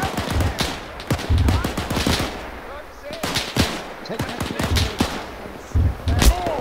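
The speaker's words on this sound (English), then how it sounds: "Suppressing fire!" Suppressing gunfire rattles through a mock battle as rapid volleys of sharp shots, some near and some farther off. Brief shouted voices come through between the bursts.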